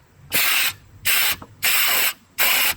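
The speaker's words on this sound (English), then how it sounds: "Now let's blow compressed air up into the line." Compressed air blasts through a car's sunroof drain line in four loud, even bursts of hissing rush, each roughly half a second long and separated by short pauses, close up and without speech.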